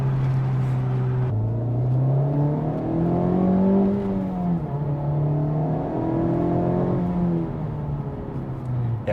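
Interior engine note of a turbocharged Honda Civic Type R accelerating: a steady, droning hum that rises and falls through gear changes, continuous and close, with no voices.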